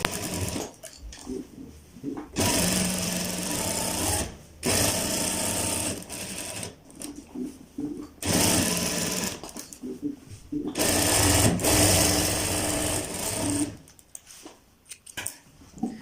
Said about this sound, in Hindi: अब हमने इसके ऊपर कंकर की सिलाई लगा लेनी है